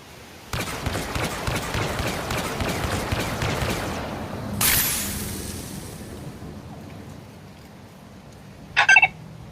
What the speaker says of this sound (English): So let's do a rapid fire test.